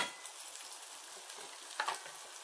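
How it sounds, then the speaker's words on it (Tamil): Tomatoes with a pinch of turmeric sauté in a pan, giving a soft, steady sizzle close by with a brief louder crackle near the end, no voices. "கொஞ்சம் நேரம் வதங்கட்டும் தக்காளி"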